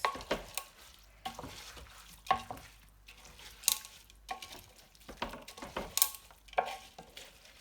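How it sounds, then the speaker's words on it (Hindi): Chicken, potatoes and rice stirred in a pot for chicken akhni pulao, a spoon scraping in an irregular run of close scrapes and knocks over a soft steady sizzle, with no talk. "अब इसे हमें हिला लेना है पूरा।"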